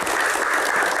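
Audience applause at a Q&A session on keroncong music, a steady dense wash of clapping with no pauses, fairly loud and without voices over it.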